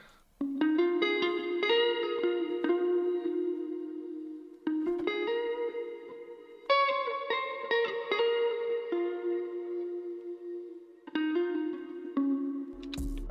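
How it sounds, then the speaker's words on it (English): An electric guitar, a Fender Stratocaster Jimi Hendrix edition, plays sustained chords and notes drenched in reverb and echo, each strike ringing out and blending into the next. "The guitar I used was a Fender Stratocaster Jimi Hendrix edition."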